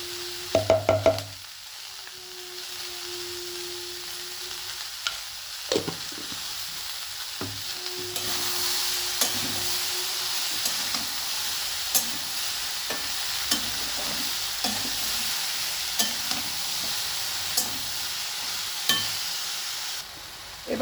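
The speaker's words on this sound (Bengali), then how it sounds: "এবার দেখুন সবজিগুলো অনেকটাই ভাজা হয়ে এসছে" Vegetables seasoned with salt and turmeric fry in a pan for egg fried rice, giving a continuous sizzle. Scattered clicks and scrapes from stirring break through it, near and fairly loud.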